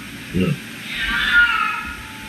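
A cat inside a home gives a short low meow, then a longer, higher drawn-out meow, fairly close and clear over faint room noise.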